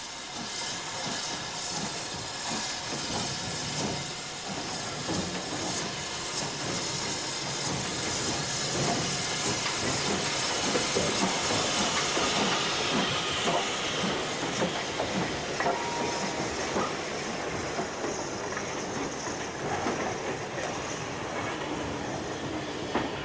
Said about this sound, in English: One of the southern engines, 73050, is now named City of Peterborough and is seen on a royal working on the Nene Valley Railway